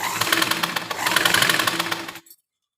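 A sewing machine stitches a blouse made from a saree, running as a steady, fast rhythmic clatter of needle strokes for about two seconds before stopping abruptly, close and fairly loud with no talk.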